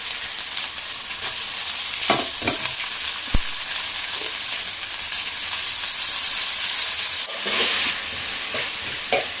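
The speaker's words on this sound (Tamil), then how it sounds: "தக்காளி வதங்கிடுச்சு நல்லா வதங்கிடுச்சுங்க" Tomatoes sauté with ginger-garlic in a pot for home-style Tamil mutton curry, giving a loud, continuous close-up sizzle and hiss, punctuated by a few clinks and stirring scrapes, with a sudden surge of steam near the end.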